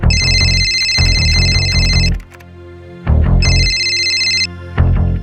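A telephone rings in two loud electronic bursts with a pause between them, close and clear, no voices.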